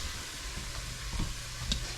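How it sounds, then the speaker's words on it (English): Onions and peppers browning in a pan for rice and gravy give a steady, soft sizzle close by, with a couple of faint clinks or stirring knocks partway through. "I'm browning up some onions and peppers now."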